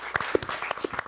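A short burst of audience applause and cheering at a West Coast Songwriters event, honoring a song award runner-up; scattered claps and voices fill the room steadily for about a second.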